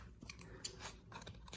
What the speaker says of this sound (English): I need the scissors